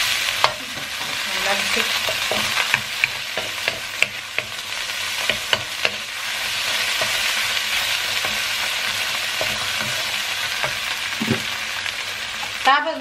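Bagoong shrimp paste caramelizing in a frying pan, a steady loud sizzle broken by frequent scraping and clacking strokes of a utensil stirring throughout.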